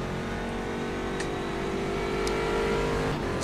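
Chevrolet Corvette C6R race car engine in rFactor 2 at Mid-Ohio, a loud, steady in-car drone holding high revs throughout, with a slight rise near the end and no talk.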